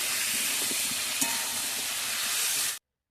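Chicken pieces sizzle and fry in a salted pan for an aloo chicken curry: a steady, loud, close hiss that runs unbroken with faint crackles, then cuts off abruptly.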